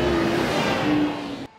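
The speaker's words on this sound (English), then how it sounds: "First, the road sweeper with a diesel engine." Diesel-engine road sweeper running close by with a loud, steady engine roar that drops in level and then cuts off abruptly near the end.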